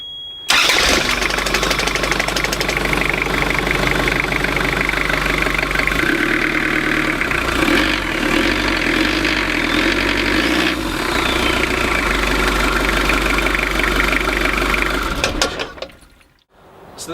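The turbo diesel engine of a 2005 Beneteau Antares 760 boat runs steadily at idle, a loud continuous low rumble with a mechanical clatter, then cuts off near the end.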